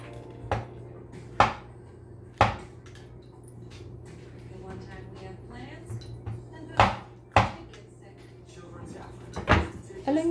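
Knife chopping washed vegetables and mushrooms on a board, a handful of sharp, separate cuts spaced irregularly with quieter scraping between, close by, while a person talks over it.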